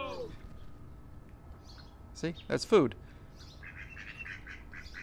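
A duck gives a couple of short, harsh, snort-like calls in quick succession, heard in the middle of quiet talk.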